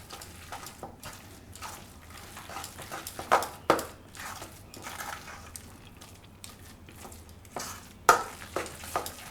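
A spoon stirs and mixes a masala of red and green coriander for a zero-oil stuffed brinjal and potato curry. The scraping and mixing is soft and irregular, with a few sharper clinks, and nobody speaks.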